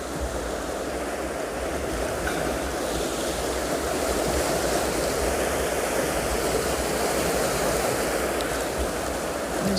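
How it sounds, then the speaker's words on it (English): Gentle ocean waves wash onto a penguin beach in a low swell, a continuous soft surf roar with light wind noise, even and unbroken for the whole stretch. "The waves are coming in very, very gently and very beautifully."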